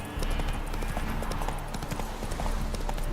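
Geralt's horse Roach trots in The Witcher 3: Hearts of Stone, steady close clip-clop hoofbeats in a brisk, even rhythm over a low ambient background.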